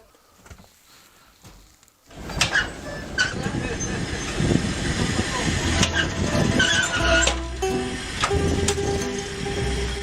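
Inside a moving train in Siberia, a quiet start gives way to a loud steady rumble of wheels and carriage with occasional squeals and clanks, while a voice speaks intermittently over it.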